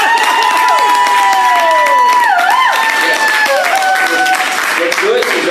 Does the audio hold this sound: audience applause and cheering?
yes